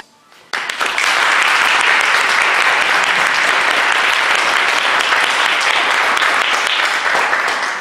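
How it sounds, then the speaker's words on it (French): An audience breaks into loud, dense applause for the young contestants at the final of a children's reading championship, starting abruptly after a brief quiet moment and holding steady throughout. "Applaudissez-les bien fort aussi."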